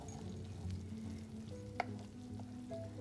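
Sesame flour curry is stirred and cooking in a pan, giving a soft, steady sizzle with a faint clink of a utensil near the middle, quiet and close, with no talking.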